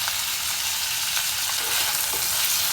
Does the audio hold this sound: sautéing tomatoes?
yes